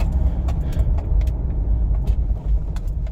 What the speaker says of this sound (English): Nothing rattling besides my keys.